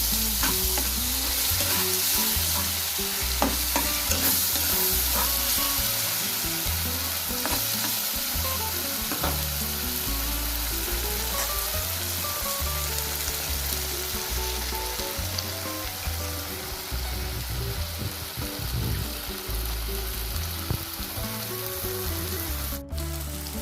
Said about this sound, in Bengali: এবার মশলা আলুর সঙ্গে ভালোভাবে মশলাটা কষে নেব